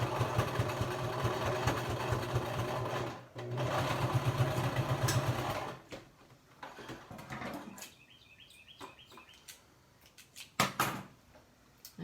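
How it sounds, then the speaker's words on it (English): A sewing machine top stitches a fitted fabric mask, running in a steady mechanical whir with two bursts of stitching, then stopping; quieter clicks and handling noises follow nearby. "So now I'll come back over the sewing machine."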